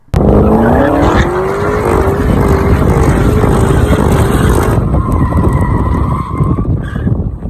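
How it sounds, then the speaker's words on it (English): Loud, continuous tire squealing as cars drift, with roaring engines up close, before the screech cuts off and a different engine tone takes over. "These guys were drifting their cars"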